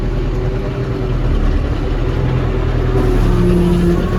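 A tractor pulls away in low-range fourth gear on a farm field, its engine a loud, steady low drone heard close up from the cab with a faint rising tone.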